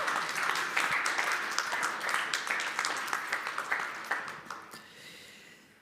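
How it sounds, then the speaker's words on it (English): Audience applause with many hands clapping together at a student project event, a dense steady patter that gradually thins and fades out near the end, with no talking over it. "big applause for yourself as well"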